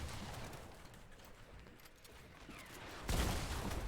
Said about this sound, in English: I feel like we're getting shot from all directions